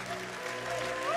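Clapping from a worshipping congregation at a church service, a steady even patter over a sustained tonal background, running through the whole moment without a break.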